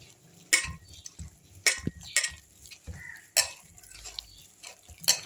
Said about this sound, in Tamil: கொஞ்சம் கொஞ்சமாக தண்ணி ஊற்றி கலப்போம்,